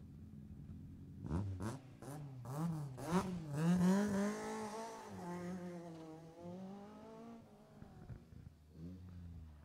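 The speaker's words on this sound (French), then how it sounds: "une voiture du groupe F2000" A Group F2000 rally car drives past at a rally shakedown, its engine rising and falling through several sharp revs and gear changes, loud and close before fading into a steady drone.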